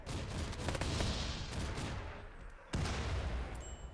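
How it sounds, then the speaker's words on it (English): Mortar fire in the video game Rimworld: a dense burst of booming, crackling explosions for about two seconds, a brief lull, then another sharp loud blast that rumbles on. "they're bringing in the mortars"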